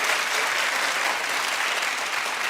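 A TV talk show studio audience breaks into loud, dense clapping, an even roar of hands that holds steady for a couple of seconds without talk.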